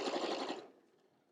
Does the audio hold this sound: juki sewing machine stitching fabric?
yes